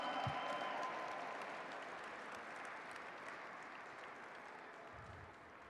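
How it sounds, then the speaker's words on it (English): An audience at a Lunar New Year celebration applauds, a dense wash of clapping that starts strong and slowly fades over several seconds, with a faint voice near the end. "Another big round of applause for Gordon J."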